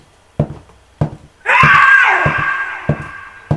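A shrill, wailing scream in the horror video game The Butcher rises suddenly and trails off over about a second, set against sharp rhythmic thuds that come before and after it.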